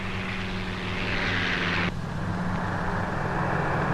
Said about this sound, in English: In spite of a missing left tire, the pilot of this Ventura bomber comes in to land wheels down.